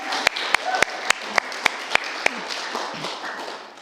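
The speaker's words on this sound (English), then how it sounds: "Let's give them another round of applause." An audience applauding at a music performance, with a few sharp, evenly spaced claps standing out over a steady crowd patter that fades toward the end.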